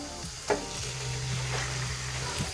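Chicken and onions fry in a pan with a dense, continuous sizzle, while occasional stirring scrapes and a low hum sit underneath.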